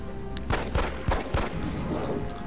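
Pistol fire in XCOM: Enemy Unknown, a quick burst of four or five sharp gunshots in rapid succession with reverberant tails, fairly close and alone without talk.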